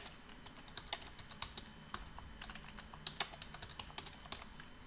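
Quiet computer keyboard typing while an assembly language comment is entered, with irregular soft key clicks and occasional sharper taps over a faint steady background hum.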